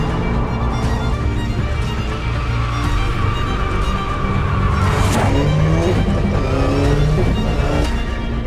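A 2022 Subaru BRZ sports coupe drives and accelerates, its engine note rising steadily and loud, with a sweeping passing or revving swell partway through.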